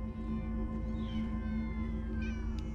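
Several cats meow inside a Minecraft Story Mode game scene, a couple of rising calls over steady game music and ambience, moderately loud with no talk.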